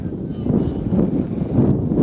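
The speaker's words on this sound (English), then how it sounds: "Wind really gusting up right now." Wind gusts at a youth baseball field, producing a steady, loud low rumble of wind noise buffeting the microphone throughout.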